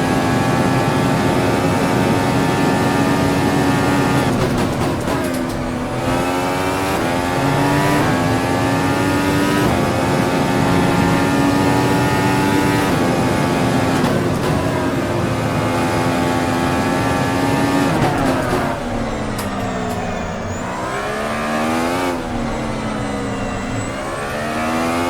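Race car driving through turns on a track, a loud close engine note rising and falling with shifts and throttle changes, continuous and alone with no talk.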